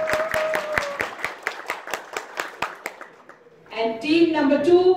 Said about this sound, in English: Let's see your applause.